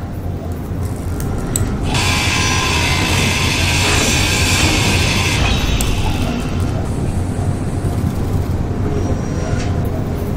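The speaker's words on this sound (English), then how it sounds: "Oh, enhanced grinders!" An enhanced grinder grinding in Space Engineers, a loud, continuous harsh rumbling roar with a gritty high hiss that swells in for a few seconds, then eases back into steady machinery noise.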